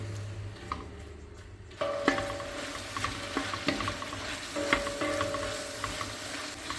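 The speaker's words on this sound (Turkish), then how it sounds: "Biberler diriliğini kaybedene kadar pişiriyorum." Hot olive oil sizzles and crackles steadily in a pot as peppers cook, with occasional pops and light scraping.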